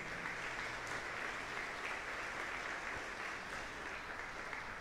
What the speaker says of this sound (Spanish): Démosle un aplauso fuerte a Nuestra Señora.